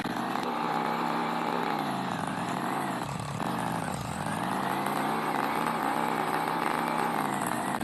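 A motorbike engine in the Roblox Bloxburg game, used for pizza delivery, drones continuously at a steady, buzzing pitch with slight rises and dips throughout.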